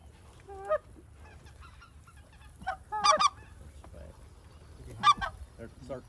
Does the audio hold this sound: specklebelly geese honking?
yes